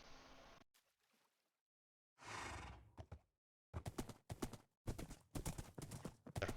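Horse hooves clip-clopping in the video game Minecraft, a whinny-like burst followed by a run of sharp, evenly spaced hoof strikes, loud and close with no talking.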